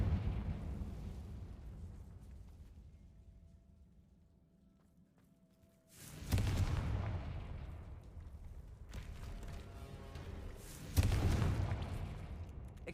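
Two loud booming blasts from a fire-casting spell in a game, each bursting sharply then fading into rumble, after a low, quiet stretch with faint steps.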